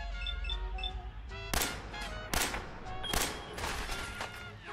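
Rapid bursts of video game gunfire crack out in several loud volleys over a low musical bed, each burst sharp and close.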